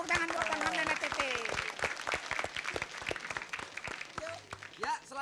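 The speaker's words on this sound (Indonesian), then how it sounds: "tepuk tangan buat Bang Hamdan HTT" A studio audience at an Indonesian dangdut comedy show claps for Hamdan ATT in a lively burst of applause, with a host talking loudly over it.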